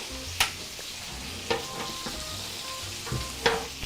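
Andouille sausage, peppers and onions sizzle steadily in a pan, punctuated by several sharp metallic clicks and scrapes of a utensil, close and moderately loud.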